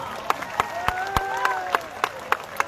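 A crowd at a protest rally at Azad Maidan, Mumbai, claps in a steady rhythmic beat to welcome Sharad Pawar. The sharp, evenly spaced claps ring over a murmur with a faint tonal line.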